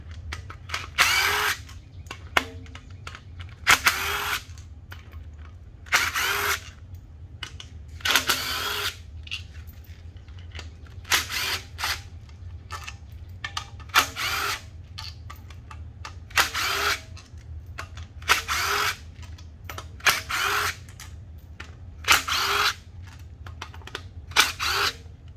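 A power tool, likely an impact driver, removes 10 mm bolts from a K-series K20/K24 engine head, sounding as a dozen short, loud whirring bursts separated by pauses with a low hum underneath.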